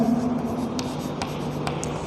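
Pen or marker scratching on paper while a math solution is written out, with short scribbled strokes over a steady low hum and a few brief taps.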